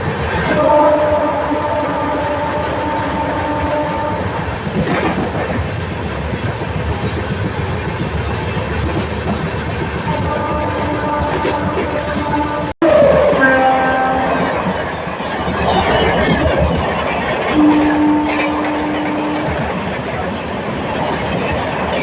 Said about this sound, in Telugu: సడన్గా వెళ్ళిపోయిందండి మన బొకారో ఎక్స్ప్రెస్కి బెదరం. టాటా నగర్ ఎర్నాకుళం ట్రైన్ వెళ్ళిపోయింది.